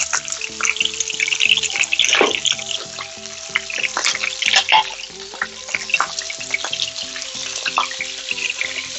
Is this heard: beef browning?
yes